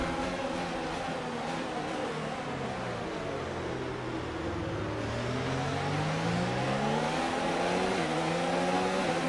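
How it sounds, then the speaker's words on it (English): A Formula 1 racing car engine in a video game revs up gradually, its pitch climbing slowly in a steady whine, loud and close with no talking. "you can probably hear how slowly I've got to build the revs up"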